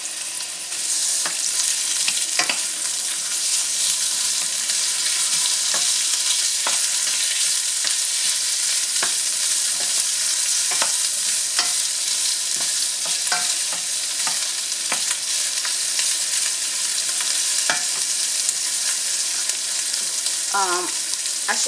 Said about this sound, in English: We're going to allow the onion to saute until it's translucent.